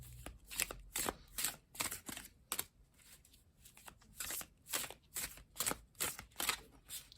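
Tarot cards shuffled overhand in a steady run of crisp, papery slaps and swishes, close up, repeating rhythmically for several seconds without speech.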